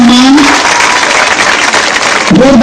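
Loud, sustained applause from an audience at an honouring ceremony, with a steady wash of clapping from start to finish and a brief voice-like tone at the edges.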